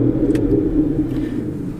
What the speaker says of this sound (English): we are greeted by the wonderful 6-litre V12, which sounds absolutely incredible, even from inside the car